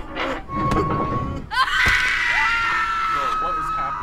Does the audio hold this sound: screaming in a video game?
yes